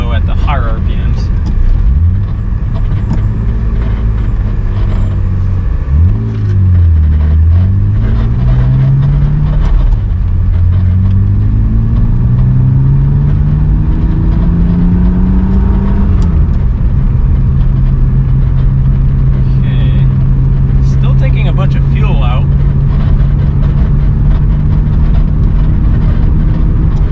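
A BMW E36 with a forced-induction M50 engine revs repeatedly toward high RPM, its loud droning pitch sweeping up and down several times before holding a steady high tone.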